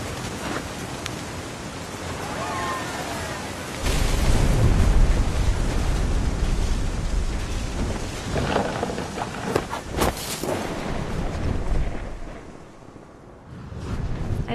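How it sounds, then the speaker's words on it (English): Thunder rumbles through a storm scene in the video game What Remains of Edith Finch: deep, heavy, rolling booms swell and fade over continuous wind and rain, with sharper cracks near the end and no talk. "The thunder sounded much too close and full of angry power"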